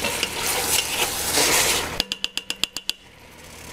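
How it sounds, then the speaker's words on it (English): Octopus sizzling in a pan with tomato and Chianti, followed by a quick stir of about nine sharp, rhythmic clinks of a utensil against the pan, then the sizzle fades lower. "Give this a stir."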